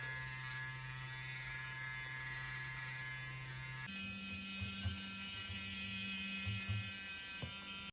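A battery-powered 4-in-1 anti-aging skincare cleansing brush buzzes against a face with a steady electric hum that shifts pitch midway, then carries on with slight rubbing variations, close and alone.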